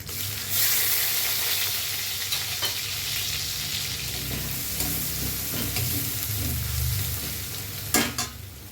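Chopped garlic frying in a pan makes a steady close sizzle, broken by stirring scrapes and a couple of louder knocks near the end, with no talking.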